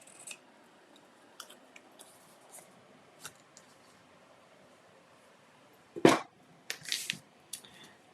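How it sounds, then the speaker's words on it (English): Scissors snip at an angle through a piece of a double fold box, with a few faint clicks, then one sharp close cut followed by quicker crisp snips. "So on one side, I'm going to angle cut it"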